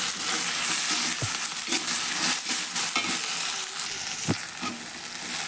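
Okra frying in a pan with a steady, close sizzle, broken by scraping strokes and a few sharp knocks as the pieces are stirred, with no voices.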